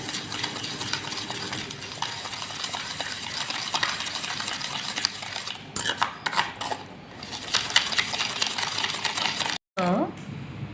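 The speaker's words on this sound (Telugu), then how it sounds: "ఇప్పుడు దీన్ని ఒక స్పూన్ తీసుకుని బాగా బీట్ చేసుకోవాలి" A spoon beats dalgona coffee mixture in a cup with a fast, continuous scraping and clinking rhythm, steady and close, with a few louder knocks near the end.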